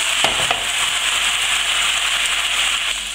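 Loud, steady sizzling from a hot pan of chicken as port wine is added to deglaze, a dense hiss with a few sharp crackles early on and no talk.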